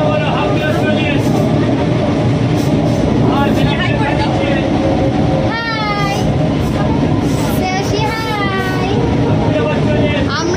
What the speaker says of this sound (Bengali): আমরা দুজনে অনেক দৌড়ে দৌড়ে ট্রেন ধরেছি, আর ট্রেনটা আজকে ফাঁকাও আছে।